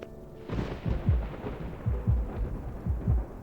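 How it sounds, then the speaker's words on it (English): Thunder from a video game rumbling outside in a series of deep rolling booms about once a second, low and heavy, with a sharper crack at the start and no voices. "thunder roars from outside. The sound alone makes me jump."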